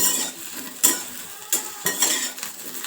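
Green chillies fry in oil while a spoon presses and scrapes them against the pan, giving several sharp metallic knocks over a soft background sizzle.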